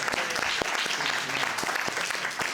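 Steady audience applause, a dense wash of many hands clapping at moderate volume, heard from within the room.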